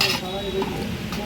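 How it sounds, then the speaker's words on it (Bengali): Ladle stirring fish-head and bottle gourd curry in a pot at a street-food rice hotel, a short run of close metallic scraping and clinking against the pot under busy background noise. "একটু হাতাতে নাড়িয়ে দেখাও একটু।"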